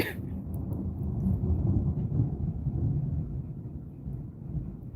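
Thunder from an approaching storm rolls as a low, continuous rumble for several seconds, moderately loud and somewhat distant, with no voices over it.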